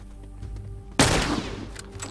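A single loud, close gunshot in a video game, going off sharply after a quiet stretch and leaving a decaying rumble and crackle behind it.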